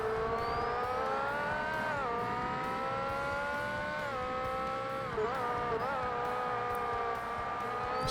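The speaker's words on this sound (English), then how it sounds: "This car's turbo doesn't sound as nice as the Audi and the Toyotas." Turbocharged race car engine in Forza Motorsport, a steady loud whine-laden drone that dips and swells with gear changes and braking, continuous throughout with no talk.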